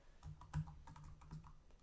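Light, quick keystrokes on a laptop computer keyboard tapping out a short word, an uneven run of soft, close clicks with one slightly harder press, with no talking.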